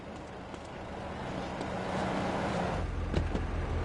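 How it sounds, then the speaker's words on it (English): Car engine in GTA San Andreas on PS5, a steady mid-loud rumble that builds slightly and deepens near the end, with faint background game noise and no clear talk. "Hey, it's just a car, man."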